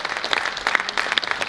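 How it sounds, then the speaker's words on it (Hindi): Audience applause at a preschool event on stage, a steady patter of many hands clapping throughout, fairly loud and close, with no talk over it. "जोर से तालियां बजनी चाहिए"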